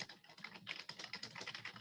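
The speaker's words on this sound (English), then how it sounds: "I probably hear someone typing from the audience." Rapid, continuous keyboard typing clatters in an irregular rhythm, faint and somewhat distant, as if from an audience member during a physics lecture.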